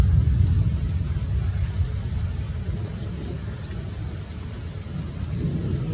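Rain from a passing storm, a steady broadband hiss of falling water with low rumbling beneath, continuous and fairly even throughout with scattered brief clicks, no talk.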